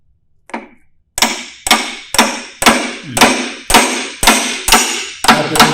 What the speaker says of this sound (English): Take a brass rod